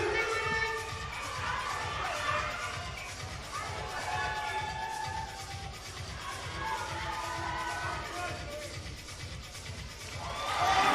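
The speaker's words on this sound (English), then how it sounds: "Crowd really getting right behind all of the athletes." Crowd cheers and shouts steadily at a bouldering championship final in a climbing wall venue, a broad noisy roar with rising whoops toward the end.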